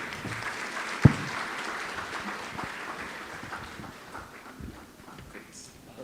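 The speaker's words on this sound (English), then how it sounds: "Please applaud him." Audience applause breaks out at an energy conference, a soft spread of clapping with one sharp loud knock near the start. The clapping then fades steadily under the room ambience.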